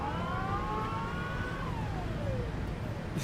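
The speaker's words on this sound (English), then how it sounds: "I swear it sounds like just an endless siren of coppers coming after you." A siren sounds in the train driving game Train Simulator Classic: wavering tones that hold, then slide downward, at moderate level over a steady rumbling background, with no talk.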